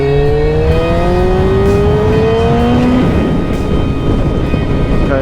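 A motorcycle accelerates hard in second gear on an open road, its engine note climbing steadily in pitch with loud, close wind rush throughout and no talking.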